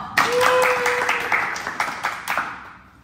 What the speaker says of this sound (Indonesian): Kasih tepuk tangannya dong